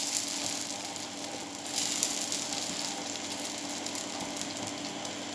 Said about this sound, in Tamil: தோசைக்கல் நல்லா சூடானதும் அதில் ஒரு கரண்டி அளவுக்கு மாவு ஊற்றிக்கலாம்.